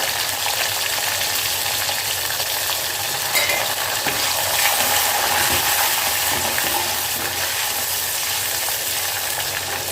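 Small sambar onions sautéing in a pan, giving a dense, steady hiss of frying that stays even and close throughout, with no talking.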